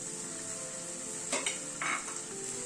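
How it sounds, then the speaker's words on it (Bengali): Tomato paste sizzles in a hot pan as a spoon stirs and scrapes it, with a steady frying hiss underneath and two short, distinct scraping strokes against the pan. "টমেটো পেস্টটাকে দিয়ে এবার আবার কষিয়ে নিচ্ছি"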